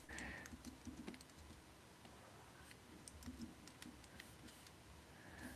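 Light, quick keystrokes on a computer keyboard clatter in uneven bursts as hotkeys are pressed, fairly quiet and close with no talking.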